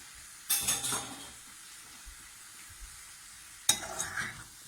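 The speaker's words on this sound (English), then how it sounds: "Give it a good stir." A jackfruit vindaloo curry with tomato is stirred in a pan in two short bursts of scraping and soft sizzle, close and fairly quiet, with near silence between them.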